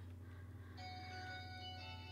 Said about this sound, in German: Einen Moment mal bitte, das Telefon.